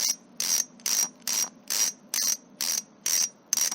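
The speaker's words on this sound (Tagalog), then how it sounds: "Ito naman yung sa ratchet type na Fovno rear hubs." A ratchet-type Fovno bicycle rear hub freewheels in a steady pattern of nine short bursts of sharp metallic clicking, recorded close up at low volume with no voices.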